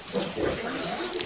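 Pigs being sold at a farm grunt and snort in a short, close burst, with rough low squeals.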